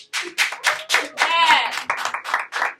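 An audience at a TV talk show claps in a quick, steady rhythm of roughly ten crisp claps, with a short tonal sound in the middle, likely the song playing in the background.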